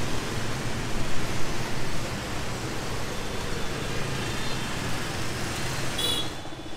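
Dense street traffic in Hanoi, Vietnam, beside the railway tracks, a constant roar of engines and tyres at close range with a faint high whine near the end.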